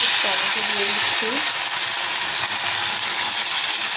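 Dried chili, bay leaf and tomato frying in a pan, giving a steady broadband sizzle and hiss throughout, with a few brief faint tonal sounds near the start.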